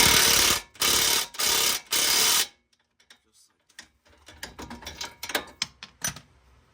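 An impact wrench on an extension drives a 17 mm bolt home while fitting adjustable camber front arms to an NA Miata, giving four loud, even rattling bursts and then quieter clicks and handling noises.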